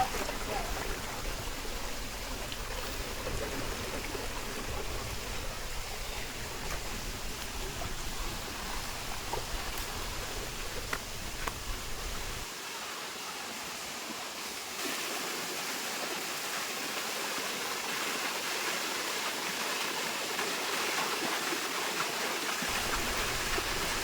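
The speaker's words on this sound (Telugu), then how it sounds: "చూడండి వాటర్ ఫాల్ ఎంత బాగుందో" Antharganga waterfall among green hills near Hyderabad gives a continuous rushing roar of falling water, steady and broadband throughout, fairly close.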